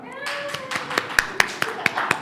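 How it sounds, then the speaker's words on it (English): Scattered handclaps from a small audience at a business talk on digital transformation, a few distinct claps spaced out in a loose rhythm, with a voice trailing off at the very start. "I would like to give a huge round of applause to our partners at Mitra"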